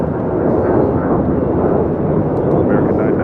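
Southwest airliner taking off from runway 25 right at LAX, a loud, broad roar of jet engines rumbling steadily close by, with a voice faintly under it.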